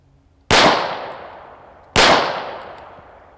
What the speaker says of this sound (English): Let's start off with just a couple shots out of the Smith & Wesson M&P, no slide locked or anything like that.